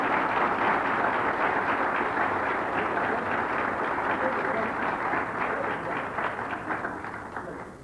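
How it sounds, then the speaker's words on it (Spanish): A group claps together in a steady burst of applause at a church gathering, with voices mixed in. The clapping fades toward the end. "Un aplauso."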